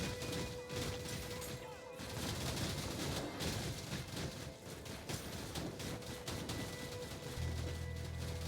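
Rapid spread-shot gunfire from a Contra-style shooter rattles continuously in dense bursts, a busy wall of game weapon fire with a faint steady tone underneath.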